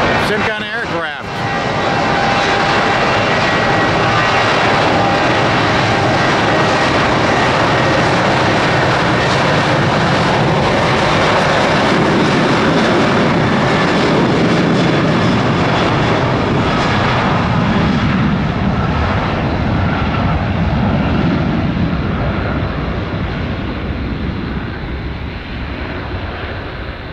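An aircraft engine runs at full power on the runway at Tampa's international airport, a loud, sustained roar that builds slightly and then slowly fades toward the end, with a voice talking over it.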